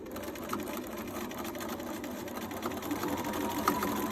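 A sewing machine stitches the right sides of a bag's outer pieces together with a quarter-inch seam, running as a steady close mechanical hum with fast needle pulses the whole time.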